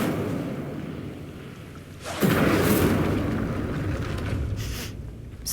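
Incendio fire spell cast in Hogwarts Legacy, a loud whooshing, roaring burst of flame that erupts suddenly and sustains for several seconds over a steady ambient background before easing off.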